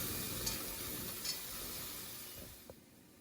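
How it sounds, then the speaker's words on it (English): Flour is whisked in a pan to cook a roux, giving a soft, steady sizzling hiss with faint whisk taps, fairly quiet and close, fading slightly toward the end, with no voices. "1/4 cup of flour. And I'm going to whisk it to 3 to 4 minutes"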